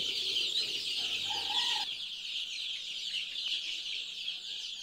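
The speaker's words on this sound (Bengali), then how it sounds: "সব অরিজিনাল পিওর দেশি মুরগির বাচ্চা" Young pure desi chicken chicks in a brooding pen, a dense constant chorus of high peeping and chirping close by, with a soft clucking note early on and no talk.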